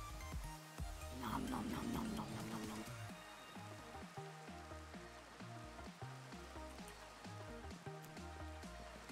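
Steady rain falling in Minecraft's Sky Factory 3 modpack, a continuous hiss of drops under looping game music, with a voice talking over it.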